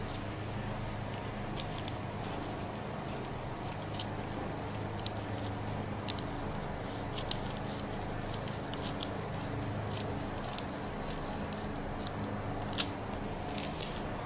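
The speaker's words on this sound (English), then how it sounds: "all we need to do is cut out the waist" Scissors snipping steadily along the waist of a fabric A-line flared skirt, a run of close, crisp cuts at an even rhythm with faint rustling of the cloth, no talking.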